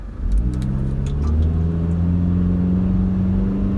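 A Mitsubishi Outlander SUV engine pulls away from a full stop and accelerates steadily, its rising drone loud and close with no talking.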